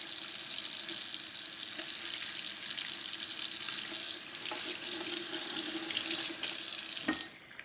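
Tap water runs steadily into a sink while a Lamy fountain pen feed is rinsed under it, a close continuous splash whose pitch shifts briefly as the stream is interrupted near the end.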